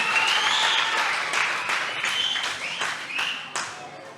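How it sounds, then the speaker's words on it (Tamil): An audience at a church's final-day children's Bible school event claps loudly, dense applause starting strong and tapering slightly, with a few cheers over it. "ஜோரா கைத்தட்டுங்க"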